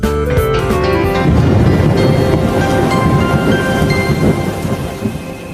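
Heavy monsoon rain pours steadily while deep thunder rumbles and rolls loudly overhead, a dense, close storm wash that slowly eases toward the end.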